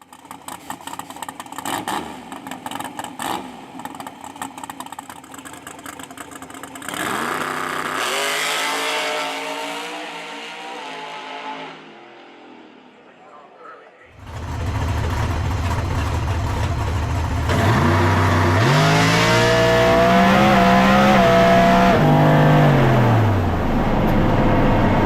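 A 2002 Camaro race car engine at Rockingham revs loudly and close, rising and falling through throttle blips before dropping briefly, then roaring into a sustained high-rev drone.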